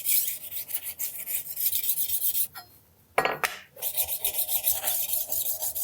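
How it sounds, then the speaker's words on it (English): A tumbler knife sharpener rolls against a kitchen knife blade in a kitchen, producing close, rhythmic raspy grinding strokes, with a short pause and a sharp scrape before the grinding resumes. "This tumbler sharpener really makes sharpening knives so easy and so fast."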